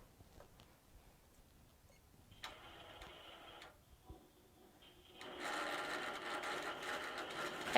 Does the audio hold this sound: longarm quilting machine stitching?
yes